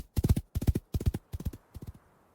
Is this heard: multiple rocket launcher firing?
no